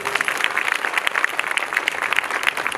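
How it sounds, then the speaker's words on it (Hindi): Audience applause at a royal award ceremony in Nagpur, a steady, dense patter of many hands clapping together at moderate loudness, with no voices over it. "एक बार जोरदार तालियां"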